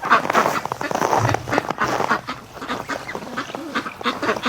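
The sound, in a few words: ducks quacking outdoors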